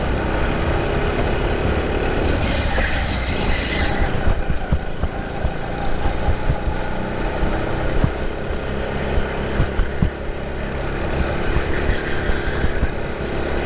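Rental go-karts race down the front stretch of a track, their small engines droning steadily at close range with continuous buzzing and rattling, no pauses throughout.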